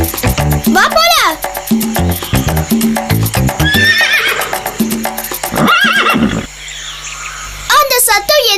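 A cartoon horse whinnies in a long, shrill, wavering neigh over clip-clopping hooves and busy animated-show music, with a child character's voice and chirping crickets mixed in.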